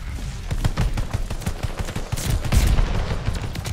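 Rapid bursts of Victory Cannon BAR rifle fire in Vanguard Season 1, loud and close, with dense repeated shots and a few brief gaps, no talk.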